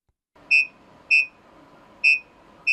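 A Volvo VN truck's collision warning system sounds four sharp electronic beeps at an uneven rhythm over a low steady cab hum, with no talking.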